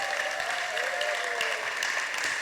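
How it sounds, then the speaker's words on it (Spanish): Church congregation applauding during a worship service, steady continuous clapping from many hands with a sustained tone ringing underneath, evenly loud throughout the short stretch. "Denle otro fuerte aplauso al Señor."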